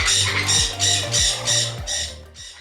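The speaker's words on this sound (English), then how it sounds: "even tame birds in captivity often use their loud screams" A parrot or macaw screams loudly, five or six harsh rasping squawks repeated in a steady rhythm, close and alone.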